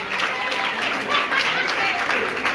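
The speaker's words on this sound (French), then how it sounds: "Merci de bien applaudir pour l'artiste Mimika Bongo." Audience applause at an awards ceremony for comedians, a dense, steady wash of many hands clapping close by with crowd noise mixed in, continuing evenly through the whole stretch.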